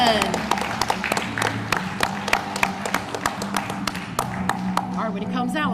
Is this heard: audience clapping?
yes